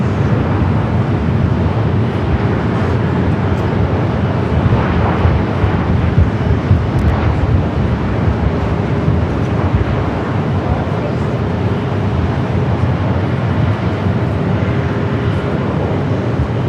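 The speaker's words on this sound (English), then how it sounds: "Japan Airlines to flight to Osaka, rolling down to 25 right" A Japan Airlines jet bound for Osaka rolls for takeoff on runway 25 right at LAX, a broad, continuous roar of engine noise heard from a distance that holds steady and loud throughout.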